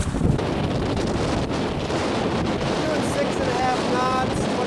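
Strong wind of about 21 knots roars and buffets the microphone aboard a reefed sailboat carrying a gale sail, a steady loud rush with some water noise beneath and faint whistling tones.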